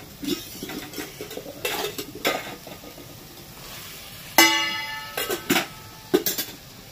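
Metal spoon scraping and clinking in a pan as potatoes are added and stir-fried into pabda fish masala; a few sharp clanks and scrapes, some sizzling in the quiet gaps, no talk.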